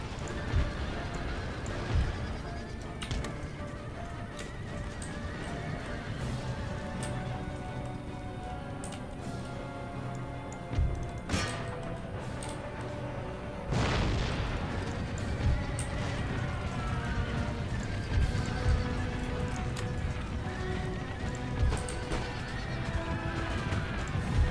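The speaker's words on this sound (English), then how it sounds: "Some more camel gunners coming up to play." Horses neigh, whinny and clip-clop as camel gunners advance across a battlefield in Empire Total War, with busy battle noise and repeated whinnies over dense, steady hoofbeats.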